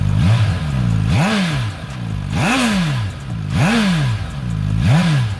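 A Suzuki GSX-S 1000 GX motorcycle engine revs up and drops back about five times in a steady rhythm, each surge roughly a second apart, loud and close.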